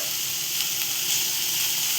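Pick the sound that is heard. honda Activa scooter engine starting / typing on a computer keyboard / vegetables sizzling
vegetables sizzling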